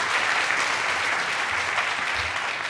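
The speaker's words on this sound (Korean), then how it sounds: "큰 박수 드리도록 하겠습니다" A lecture audience at a church history talk on Roman persecution and Christian martyrdom breaks into steady, sustained applause.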